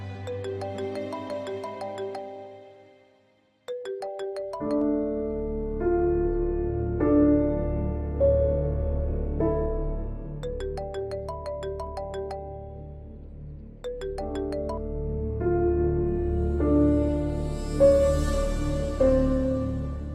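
A mobile phone rings with a tinkling melodic ringtone that repeats in steady phrases, loud and close, with a short pause partway through.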